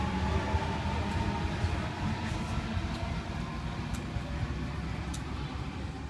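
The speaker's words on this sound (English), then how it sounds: "we have M6 departing platform 1 for a Liverpool service, stopping at Glenfield and Liverpool only" A Sydney Trains M set pulls out from platform 1 at Edmondson Park on a Liverpool service, a steady loud rumble and rolling roar with faint rail squeals, no voices.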